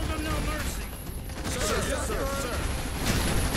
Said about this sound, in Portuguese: o mais legal é você sair dando tiro nos alienígenas